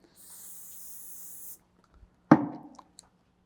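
A single steady hiss from an aerosol hairspray can sprayed onto hair lasts about a second and a half, followed by a louder clunk and a faint click.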